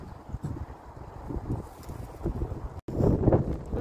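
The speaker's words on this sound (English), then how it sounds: "Another windy day here." Gusty wind on a horse and alpaca farm rustles and buffets the microphone in uneven bursts, with faint thuds underneath and no talking.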